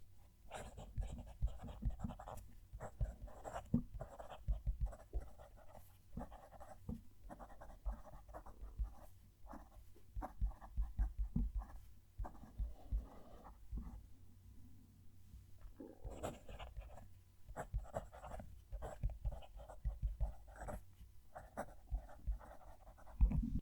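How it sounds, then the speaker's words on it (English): A medium-nibbed fountain pen writes a sentence on paper, heard close up. Soft scratchy strokes come in short, irregular bursts, with a brief pause near the middle. "We'll move the mic and write the sentence."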